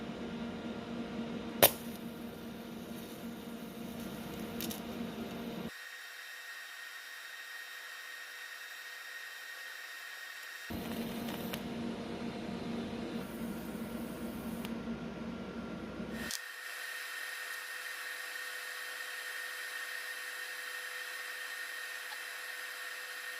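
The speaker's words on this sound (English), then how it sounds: "I'll just go with the TIG plug welds" TIG plug welds joining two steel pieces for a suspension mount, each weld a steady buzzing hiss lasting several seconds, with two bursts separated by quiet gaps, heard close up with no talk.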